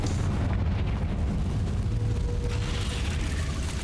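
The Confringo fire spell in Hogwarts Legacy bursts in a dense, continuous fiery roar with rumbling low end and crackle, loud and steady throughout, with no voices.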